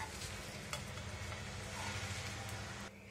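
Pancake batter for Malabar elanchi cooks in a pan over a low flame, giving a steady, soft sizzle that runs quietly throughout and drops away just before the end.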